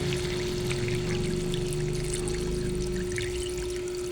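Water pours steadily into a cooking pot for sinampalukang manok, a Filipino tamarind chicken soup, producing a continuous close-up trickling stream beneath a steady electrical hum, with no talking.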